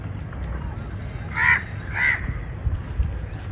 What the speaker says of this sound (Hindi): ये कौवे जो है ना डांगी के ऊपर आके दोस्तों बैठते हैं